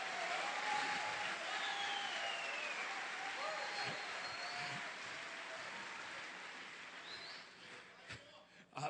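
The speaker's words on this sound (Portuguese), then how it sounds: "Dê uma forte salva de palmas para Jesus." A church congregation claps and cheers for Jesus during an evangelical service, a long moderate wash of applause with a few shouts rising over it, fading slightly before a small burst at the close.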